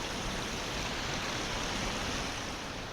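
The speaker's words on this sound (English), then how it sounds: "another water crossing here, and a pretty big drain coming down not that way." Creek water rushes over a trail water crossing near Brush Creek in West Virginia, a broad, steady, full-bodied roar of flowing water, close and unbroken, with no voices.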